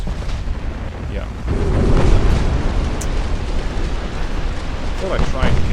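Torpedoes striking a battleship in the naval game Ultimate Admiral Dreadnoughts, heard as a dense, rumbling roar of explosions that swells loudly around two seconds in and then rolls on as a heavy, continuous boom, with voices under it.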